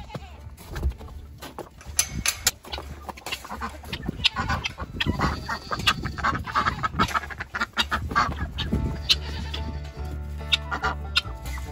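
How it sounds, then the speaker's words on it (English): Battery hens in a barnyard after an arctic cold snap, clucking and squawking in irregular bursts close to the microphone, with overlapping calls and scattered sharp peaks throughout. "Oh, there's 2 battery hens."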